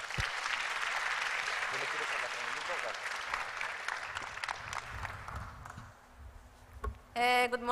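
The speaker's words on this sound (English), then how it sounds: "an applause for Ana" Applause at an opening ceremony rises in a full round of clapping that gradually thins and fades over several seconds, followed by a brief thump and a voice beginning to speak.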